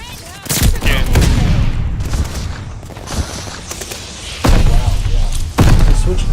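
Grenade blasts and rapid gunfire in the shooter Call of Duty: Vanguard, loud close bursts of shots and heavy thumps spread across the stretch, with a voice talking intermittently underneath.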